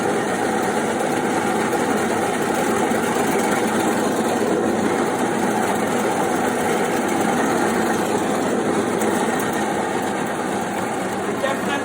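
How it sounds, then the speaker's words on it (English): A multi-blade meat slicer cutting beef strips for jerky runs continuously with a loud, steady mechanical whine and rumble, close by and unbroken throughout. "I'm about to put it through the multi-blade slicer. So start the machine's quite noisy"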